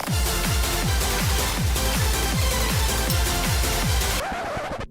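Loud, dense music washed in heavy reverb, with a repeating pulsing beat smeared into a long echoing tail that cuts off abruptly near the end.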